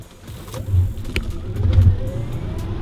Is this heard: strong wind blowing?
no